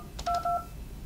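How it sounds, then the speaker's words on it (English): A ShoreTel desk phone gives two short, clean DTMF dialing beeps in quick succession, close and clear over quiet room tone. "And then we can dial the next person that we want to bring in."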